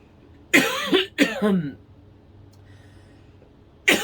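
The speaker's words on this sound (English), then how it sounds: "I got a really bad tickle in my throat, making me want to cough" Two sharp coughs in quick succession, close and fairly loud, then a quiet stretch before another cough begins at the end.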